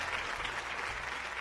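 Applause from a TV game show studio audience greeting the first prize winner of Super Bumper, a steady wash of clapping filling the whole moment without pause.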